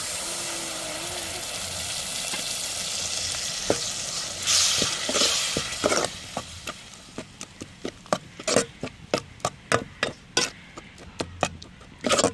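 Crab gravy masala with ground coconut sizzling in a pan: a steady fry at first, then the hiss fades as sharp, regular scraping strokes of a spoon stirring the thick paste take over.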